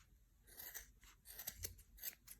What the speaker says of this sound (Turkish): Bakın makasım güzel kesiyor.